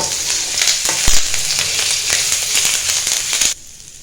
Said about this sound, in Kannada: ಕರಿಬೇವು ಚಲೋತ್ನಂಗೆ ಮಿಕ್ಸ್ ಆಗಿ ಫುಲ್ ಹಸಿ ಸ್ಮೆಲ್ ಹೋಗೋ ಮಟ್ಟ ಫ್ರೈ ಆಗಲಿ